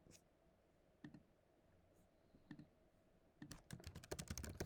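Computer keyboard keys clicking, a few scattered presses at first and then a quicker burst of typing at the end, close and fairly quiet.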